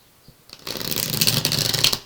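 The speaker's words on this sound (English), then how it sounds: "Just got 3 more shuffles left to go." Tarot cards are shuffled close up, the riffle building quickly into about a second and a half of dense, crisp flutter, with no talking.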